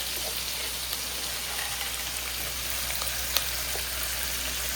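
Onions fry in a pan with a steady, even sizzle and faint crackles, continuous and close, with no voices over it.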